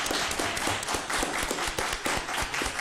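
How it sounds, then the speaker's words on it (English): An audience at a Jackson public school board meeting claps in dense, continuous applause, with individual sharp claps standing out over a steady roar of hands. "The crowd goes wild."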